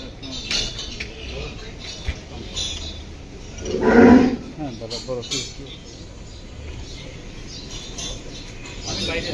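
A single loud moo from a large cow rises out of a noisy outdoor Qurbani cattle-buying scene at a farm, with people talking nearby before and after it.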